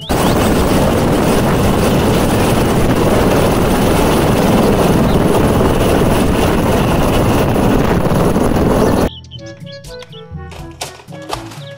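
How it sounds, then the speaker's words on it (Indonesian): Toy helicopter sound effect from a collection of children's toy vehicles: a loud, steady whirring drone for about nine seconds, then it cuts off abruptly and plinking music continues. "Helikopter."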